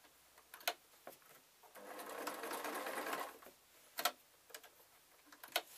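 A sewing machine stitches fabric for a ragdoll decoration in one continuous burst of about a second and a half, close by, amid scattered clicks and handling taps in a quiet room.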